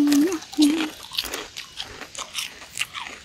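Crisp bites into crunchy krecek sego, a fried rice-cracker snack, up close: a sharp crunch followed by a run of irregular chewing crackles, with a short voiced hum near the start.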